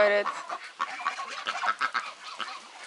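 Geese in a backyard pool area honk in a quick, close cluster of nasal calls, busy and overlapping for a few seconds without speech.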